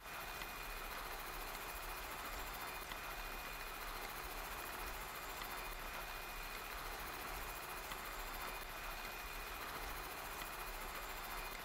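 Steady, unchanging mechanical hum of a vehicle under test in the Elinor Wonders Why game, a constant engine-like drone with broadband hiss and no pauses or voices.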